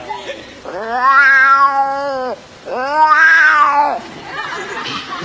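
Two long, drawn-out meows in a human voice mimicking a cat, loud and close, followed by fainter background chatter.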